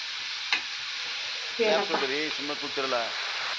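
Onions fry with cloves, cinnamon and greens in a pan, giving a steady close hiss of sizzling oil and a brief utensil knock, while someone talks over it in the second half.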